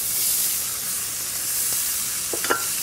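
Leeks and celery sizzle in oil in a pan with a continuous bright hiss, broken by a few small pops and stirring clicks near the end, with no talking.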